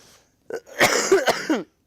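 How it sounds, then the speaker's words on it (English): A burst of several throaty coughs in quick succession, close to the listener, with a brief pause before one last cough. "Last cough."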